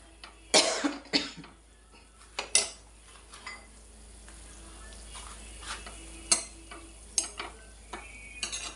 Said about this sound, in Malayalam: കൈ വിടാതെ ഇച്ചിരി റവ ഇട്ട് നല്ലതായിട്ട് ഇളക്കി കൊടുക്കണം